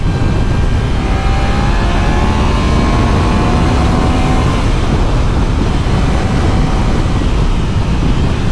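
Heavy, continuous wind blast roars over a rider's chest on a moving Triumph Daytona 660 motorcycle at around 68 mph, a loud broadband rush that buries the engine beneath it from start to finish, with no talk.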